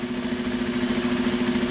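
An industrial sewing machine with a plain tape binder attachment stitches woodland camo poly-nylon blend fabric, giving a steady, close mechanical hum with a strong fixed drone and continuous rattling texture throughout.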